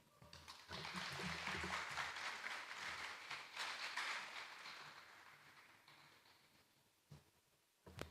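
An audience at a school jingle competition claps in a broad burst of applause that swells, holds for several seconds, then tapers off, followed by a couple of faint thumps.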